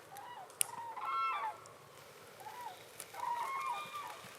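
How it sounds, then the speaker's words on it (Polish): Geese honking in a loose series of calls, two bursts of overlapping honks passing at moderate distance over quiet background. "Ptaki lecą."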